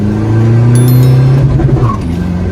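A tuned 2020 Toyota Revo pickup accelerates hard, its engine note loud and near, climbing steadily in pitch before a brief lift, with no speech over it.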